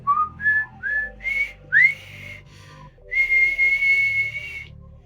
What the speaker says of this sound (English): the whistle's a bit off key, but it is what it is